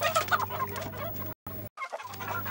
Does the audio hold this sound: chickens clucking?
yes